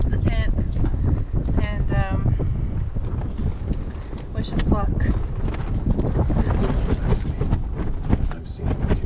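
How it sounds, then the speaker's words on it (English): Gusting wind buffets the microphone at a lakeside campsite by teal water, a loud, constant rumble and roar under a person talking at the start, with sporadic rattles and knocks. "It's a little windy."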